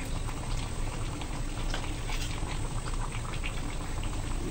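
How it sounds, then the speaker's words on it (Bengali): Milk boiling in a pot on a stove, a steady, close bubbling and gentle popping that runs continuously without any voices. "আমার দুধটা কিছু সময় জাল করা হয়ে গিয়েছে"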